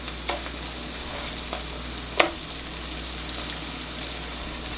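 Hot oil spattering in a pan while canned asparagus fries, a steady low sizzle broken by a few sharp pops and crackles, one louder than the rest.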